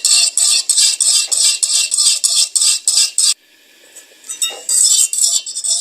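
A beater scrapes and clinks against a pan as vanilla custard is stirred in quick repeated strokes. A brief pause comes in the middle, then the rhythmic metallic stirring starts again.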